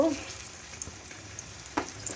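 Bread pakoras fry in oil until reddish, with a close, even crackling sizzle and a couple of brief utensil knocks.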